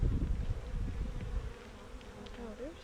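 Honey bees at an open hive with a small colony of about two and a half combs hum in a low, dense buzz, louder at first and then settling to a steady drone nearby.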